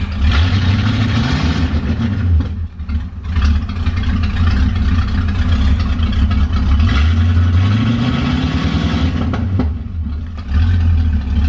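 A 1976 Mustang Cobra engine warming up, idling with a deep rumble and given a couple of short throttle blips that rise and fall, loud and close.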